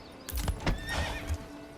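Horses in the village-building game Manor Lords whinny once and clop their hooves a few times in loose, uneven steps, up close and fairly loud, with no talk.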